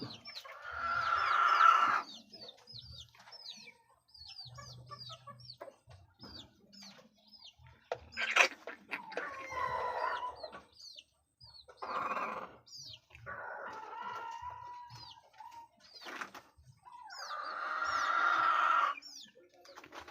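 A chicken with a cold clucks and makes raspy, wheezy throat sounds up close, with chirping birds and faint background noise around it.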